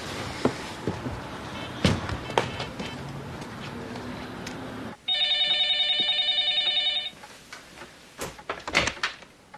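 A phone rings in a short burst of rapid electronic trills partway through. Before it come scattered indoor clicks and knocks, and quieter thumps follow once the ringing stops.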